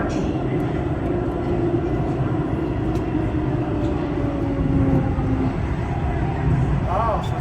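An SMRT Thomson-East Coast Line train arrives at Tanjong Rhu station with a steady, low rumble and whir heard from aboard, with faint voices in the background.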